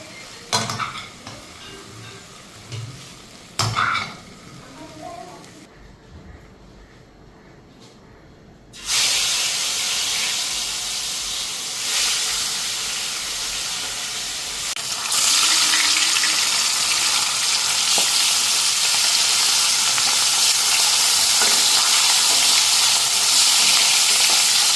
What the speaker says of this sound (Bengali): মাছ ভাজাটা বসানো।